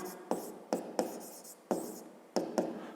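A pen scratches across paper at close range while someone writes out a geometry sum about line segments, several short strokes separated by brief gaps, with no voices.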